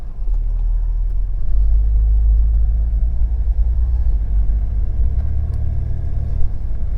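Deep, steady engine rumble from a Toyota Land Cruiser with an air-fuel ratio fault being driven home, heard from inside as a low, continuous drone with slight fluctuations and no talking.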